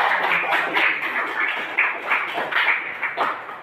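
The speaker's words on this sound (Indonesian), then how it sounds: "Tepuk tangan buat kalian telah menyelesaikan karya." A class of students applauds after finishing their work, a dense, continuous patter of clapping hands with brief swells, fairly close and alone without talk.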